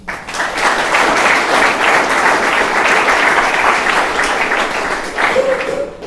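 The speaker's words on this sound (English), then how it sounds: "Let's just take a moment to applaud these creative students." Steady, full applause from a large audience at a bridge proponent announcement, honoring student artists; dense continuous clapping holds at an even level for about six seconds.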